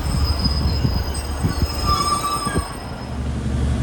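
A Northern train departing Salford Central station, heard from on board, with wheels squealing on the rails in a sustained high whine over a low rumble and rhythmic clicks from the track joints.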